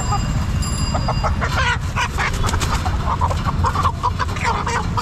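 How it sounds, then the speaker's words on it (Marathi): Village chickens and roosters cluck and squawk in a dense, busy chorus at a large livestock market in Chakan, Maharashtra, with steady crowd noise and nearby voices throughout. "गावरान कोंबड्या आहे, कोंबडे आहे."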